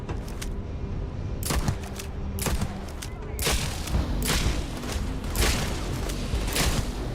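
Pistol fire in Starfield, a run of sharp, close gunshots cracking at an irregular pace over a steady background rumble.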